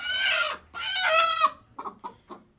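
A turkey hen gives two loud, drawn-out squawking calls up close, followed by a few shorter clucks.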